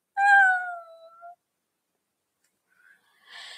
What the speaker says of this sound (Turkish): kedi miyavlayıp zıplayarak kendine getirmiş onu